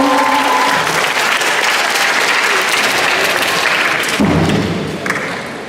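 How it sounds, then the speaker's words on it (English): A crowd applauds steadily for several seconds, a dense wash of clapping that thins slightly toward the end. "Give a round of applause to Nadia."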